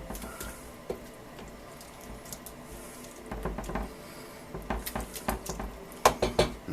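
Beef stroganoff is stirred in a pot with scrapes and clinks of a utensil against metal, growing denser and louder in the last few seconds, with faint kitchen background and no speech.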